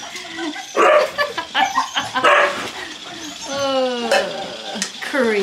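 A husky puppy barks and yips excitedly in a burst of high, rising calls among other dogs, with someone talking over and between the barks.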